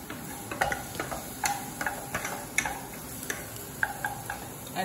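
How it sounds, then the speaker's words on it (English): Onions sauté in a pot as the base of a coconut sauce, making a low sizzle broken by a series of sharp clicks and taps from stirring, close and without talk. "So for our coconut sauce, I'm cooking some onions, just sauteing some onions."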